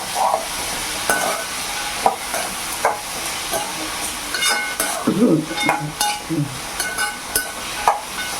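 Onions sauté in a pan for a dosa chutney, with soft sizzling under repeated scraping and clinking strokes of a spoon stirring against the metal, close and steady throughout.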